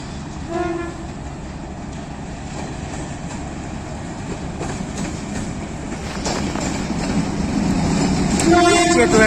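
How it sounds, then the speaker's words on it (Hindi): Rehman Baba Express pulling into Rawalpindi station behind locomotive 28308, a steady rumble of rail cars with horn tones early and late, growing louder toward the end, with talk in the background. "48 डाउन रहमान बाबा एक्सप्रेस 15 मिनट की ताख़ीर से रावलपिंडी स्टेशन पे पहुँच रही है।"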